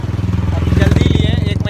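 A Royal Enfield Classic 350 engine runs close by with a steady, throbbing thump, carrying two riders on the road from Mumbai to Pune.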